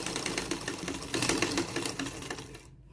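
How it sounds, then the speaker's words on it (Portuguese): A sewing machine stitches a dish towel in a fast, steady mechanical patter, close and continuous, stopping abruptly at the end. "Uma costura bem reta e bem fina."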